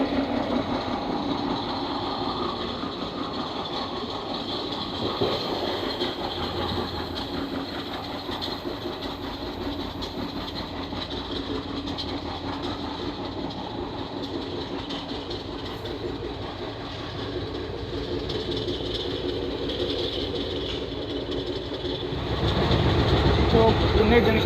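Koyna Express passenger train running steadily on rails, a continuous rumbling interior ride noise with broad wheel and carriage roar, swelling louder near the end; faint voices mingle in the background.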